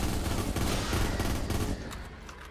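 Rapid gunfire in the Black Ops 3 Custom Zombies video game, a dense burst of repeated shots filling the whole moment before easing off at the end.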